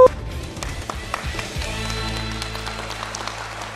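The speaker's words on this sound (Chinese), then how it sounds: "掌声有请二号徐帅、" A studio audience claps on a televised dating show, a broad steady wash of applause that swells after a brief opening and carries on evenly to the end, with faint voices underneath.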